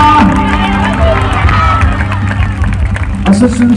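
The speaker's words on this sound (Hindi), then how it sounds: "जोर से पवित्र आत्मा के लिए ताली बजाते हुए उसको धन्यवाद दें" Crowd clapping and cheering at an outdoor Christian worship festival on a school ground in Ranchi, a loud steady wash of hands and voices with a voice speaking over it.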